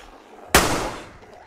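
A single sharp gunshot from a firearm in the survival video game DayZ, a loud, close crack that decays over about half a second, with no talk over it.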